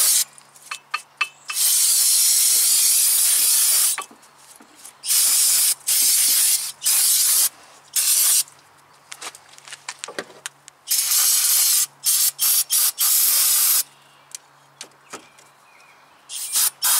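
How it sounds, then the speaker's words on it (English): Brake cleaner is sprayed onto the front brake caliper of a 2000 Nissan Maxima in repeated loud, hissing aerosol bursts of varying length, separated by short pauses and some faint clicks. "Some brake cleaner, spray that down, and we'll be able to tell for sure."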